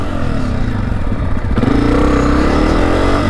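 A dirt bike engine runs in first gear close by, a loud motorcycle drone that rises in pitch as it revs up partway through, with some mechanical clatter and no talking.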